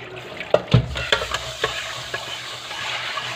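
Vegetables and pork stir-frying in a pan, a series of close, loud scrapes and clatters of the utensil settling into a steady sizzle.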